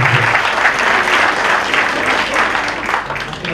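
An audience gives loud, sustained applause, many hands clapping together in a thick wash of sound.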